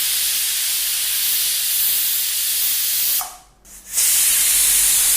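A loud, continuous hiss of steam venting from a pressure cooker cooking mutton curry, cutting out briefly for a moment before resuming at full force.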